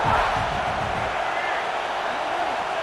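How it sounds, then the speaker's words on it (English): Dense, steady roar of a stadium crowd in the College Football 26 video game, Virginia Tech versus South Carolina, filling the whole stretch at an even level with a busy, broadband wash of voices. "This crowd bringing the energy and noise early"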